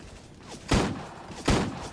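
Gunfire in the Fortcraft mobile battle royale game: two sharp, close shots about three quarters of a second apart, each with a brief ringing tail over a quiet background.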